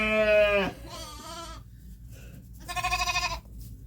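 A ram bleats loudly at close range in several wavering calls, with a long quaver at the start, another in the middle and a final pulsing bleat, with no talking.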